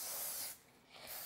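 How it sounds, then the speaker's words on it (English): Nonstick cooking spray hissing from a can onto a pizza pan, two close, soft bursts of airy spray separated by a short pause. "Nonstick spray, very handy."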